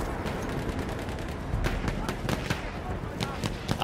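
Gunfire in the Battlefield 1 video game, with rapid bursts of automatic fire and scattered single shots cracking steadily over a dense battlefield rumble, partly distant and partly closer.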